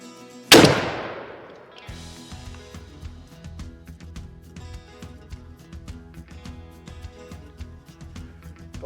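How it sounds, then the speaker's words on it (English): A Tristar Raptor shotgun with a Primos Tight Wad turkey choke fires one loud, close Federal TSS turkey load outdoors, a sharp blast that rings off slowly. Faint scattered clicks and rattles follow. "Federal TSS out of the Tristar Raptor with the Primos tight wad turkey choke."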